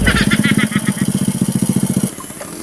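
A motorcycle engine putters in a steady, rapid idle with a pulsing rhythm that holds close and fairly loud, then drops away near the end.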